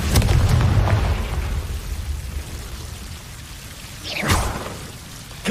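Confringo fire spell cast in the video game Hogwarts Legacy, giving a rumbling explosive burst at the start and a second sharp whooshing blast near the end over steady game ambience.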